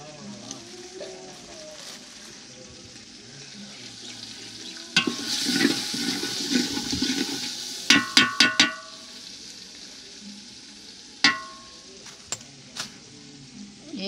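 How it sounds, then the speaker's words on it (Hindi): Thick chillies frying in a pot as chicken biryani is made, with a steady low sizzle that swells into louder spattering, followed by a few sharp metallic clinks and stirring knocks close by. "अब मैं डालेंगे मोटे मिर्चें"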